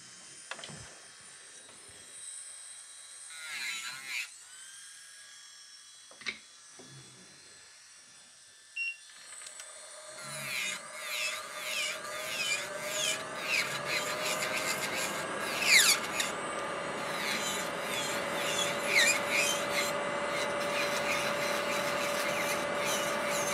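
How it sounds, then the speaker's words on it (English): Electric nail file (e-file) smoothing a gel nail surface during 3D encapsulated rose nail art, a high whirring drill tone that starts in the second half and grinds steadily, close and loud, after quieter scattered handling noises. "using the e-file, we are going to file the nice and smooth surface like you would do it on the client"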